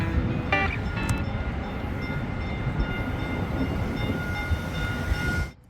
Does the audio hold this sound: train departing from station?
yes